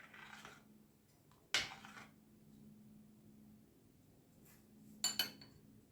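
A spoon stirring cheese soup made with processed cheese in a pot, quiet under a low steady hum, with two brief metallic clinks against the pot's side spaced a few seconds apart.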